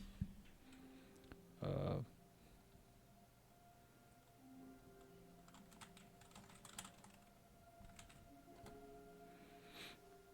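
Keyboard typing while entering a name in the Dark Souls 2 video game, heard as scattered quiet key clicks and taps over a soft background drone, with one louder burst of noise early on.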